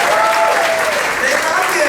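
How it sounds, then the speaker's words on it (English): A theatre audience at a live stage show breaks into steady, dense applause, loud and close, with a few cheers rising through the clapping. "Let's applaud that."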